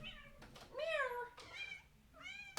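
Loud, close meowing from a pet cat named Cowie: three separate calls, the middle one longest and strongest, with a faint hum beneath.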